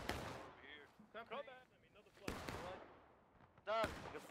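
A battalion fires a volley in the War of Rights video game, sharp broadband musket cracks bursting out at intervals, some near and loud, others softer, among spoken commands and voices.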